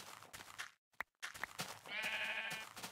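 Minecraft sheep bleating in the game, a short bleat followed by a longer wavering one amid soft game sounds and brief clicks.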